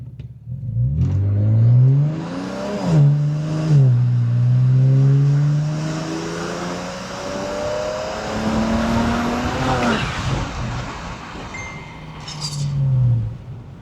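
A worn BMW 335i in sport mode, its transmission failing, accelerates hard in a long pull: the engine note climbs steadily through the gears with brief dips at each shift, loud and close throughout.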